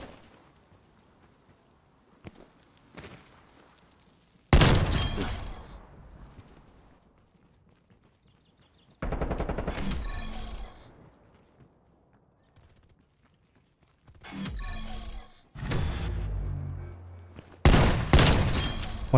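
Heavy hand cannon shots in an online shooter video game, a handful of loud, sharp blasts separated by quiet gaps, each with a ringing decay, set against faint background game noise.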